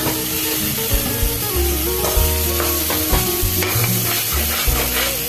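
Boiled kabuli chickpeas being stirred and sautéed in a pan for ghugni, a loud continuous sizzle with repeated spoon scrapes and knocks close by, no talk.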